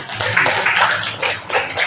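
Classroom applause for a teacher's lesson, a dense wash of many hands clapping steadily at close range, with no voices standing out.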